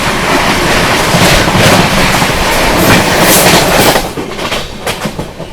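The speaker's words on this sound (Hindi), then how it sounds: "क्रॉसिंग दिखाते हैं रांची नई दिल्ली राजधानी express via Bokaro steel city" The Ranchi–New Delhi Rajdhani Express via Bokaro Steel City passes close at night, a loud continuous roar of wagons with clattering wheels that eases slightly near the end.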